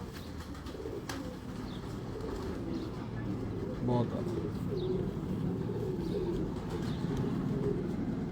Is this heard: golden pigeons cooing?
yes